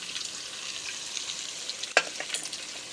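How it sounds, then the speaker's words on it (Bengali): An egg fries in a pan alongside browned potatoes, giving a steady, bright sizzle throughout with one sharp utensil clink near the end. No voices are heard. "এই ডিমটাও ভেজে নিলাম।"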